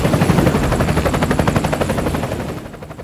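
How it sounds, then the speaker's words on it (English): A helicopter passes overhead during a Korean War rescue, its loud rotor thumping in fast, even pulses that gradually fade as it moves away. "Then, a helicopter flew overhead."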